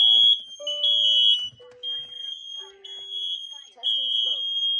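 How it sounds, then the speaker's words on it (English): A smoke alarm running its self-test blares a loud, piercing electronic tone in repeated bursts, interleaved with short synthetic voice prompts from the unit. "The alarm will sound. It's going to be loud."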